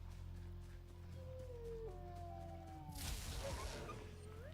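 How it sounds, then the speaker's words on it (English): A creature in the Enshrouded video game lets out a drawn, wavering howl-like cry over a steady low ambient hum, then breaks into a harsh, noisy snarl near the end. No one speaks. "I heard you growling."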